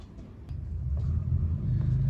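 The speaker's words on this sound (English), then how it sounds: "I'm gonna start the car up and we'll check for any leaks" A Mitsubishi Colt Ralliart engine catches and settles into a steady, low idle rumble, close by and constant, with no voices over it.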